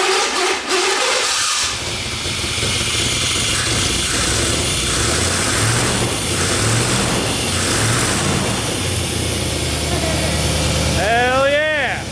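A 3rd gen Pontiac Firebird Formula engine cranks briefly, catches and runs loud and close with a rough, steady idle and light revving throughout. Voices talk faintly over the engine noise.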